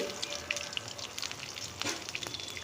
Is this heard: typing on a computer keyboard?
no